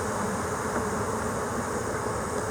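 Honey bees buzzing around hive frames with fresh comb, a steady, dense drone that stays close and constant throughout with no voices.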